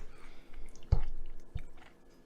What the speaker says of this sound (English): that's not me crunching in the background. One of the cats decided to eat.